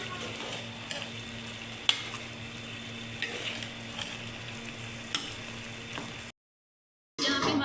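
Mutton keema roasting and being stirred in a pan, with a steady close sizzle and occasional scraping clicks of the spoon against the metal, then a brief silence before the frying resumes louder.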